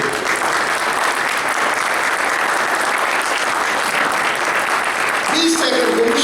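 Sustained audience applause at a mushaira, an Urdu poetry gathering, steady and dense throughout, with a brief tone and faint voices near the end.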